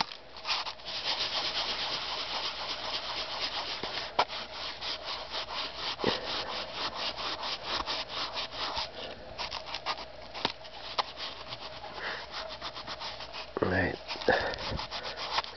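A used sock loaded with rubbing compound scrubs the roof of a Lionel 1630 passenger car in steady, close back-and-forth strokes, with a brief louder scuffle near the end.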